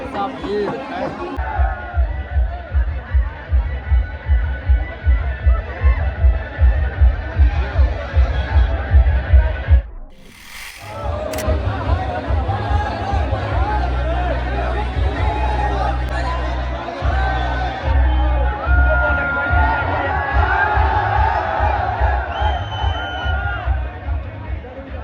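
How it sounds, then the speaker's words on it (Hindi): A packed crowd at a village cricket tournament final in Nowgong, Delhi versus Chandigarh, makes a dense, loud hubbub with a rhythmic thumping beat at first, then a continuous roar of chatter, with talk over it. "भीड़ है।"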